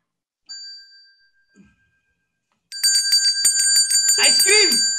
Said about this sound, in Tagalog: Ice cream vendor!